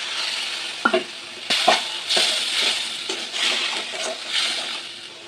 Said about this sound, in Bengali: এরপর টমেটো বাটাটা দিয়ে দেবো,